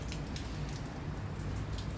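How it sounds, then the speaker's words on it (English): Steady rain falls in Seattle, an even, continuous patter of drops hitting surfaces, close and fairly soft, with no voices over it. "That's the sound of Seattle's first rain in 2 weeks."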